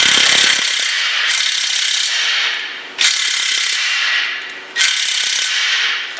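A Harbor Freight impact wrench works a bolt on a Mazda Miata MX-5 during a clutch job, firing in three loud sustained hammering bursts, each opening sharply and easing off slightly before the next, with no talk.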